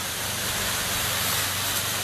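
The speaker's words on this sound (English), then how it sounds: "I'll go in here and spray this" A steady, close hiss of liquid spraying from a pressure sprayer nozzle, continuous and even for a couple of seconds.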